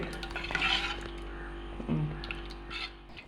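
Beetroot and potato curry being stirred in a pan, giving soft scraping and occasional light clinks of a utensil against metal, close and fairly quiet, with no voices.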